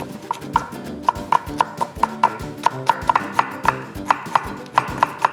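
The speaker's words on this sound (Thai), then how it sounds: "จากนั้น เราจะซอยปลีกล้วยของเราเป็นชิ้นบางๆ" A knife slices banana blossom thinly on a board for Thai fried fish cakes, giving a steady run of crisp, close chopping taps about twice a second, with no voices.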